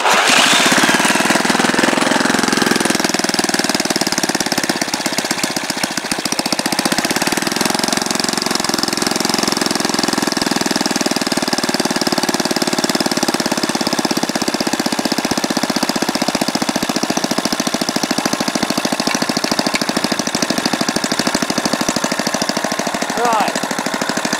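An old stationary engine runs on its spark plug with a loud, steady, fast knocking chug that continues unbroken throughout.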